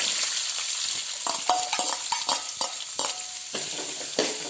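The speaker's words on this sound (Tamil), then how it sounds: "வெங்காயம் போட்டு நல்லா பொன்னிறமாக வர வரைக்கும் வதக்கிட்டே இருக்கணும்" Onions sizzle and fry steadily in a hot pan for crab gravy, cooking until golden, with occasional scrapes and clicks of a spatula stirring them close by.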